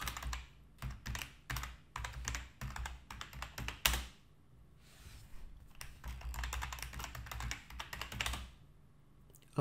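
Rapid keystrokes on a computer keyboard as a password is entered, clattering in dense bursts with a short pause near the middle, close and fairly quiet with no talking.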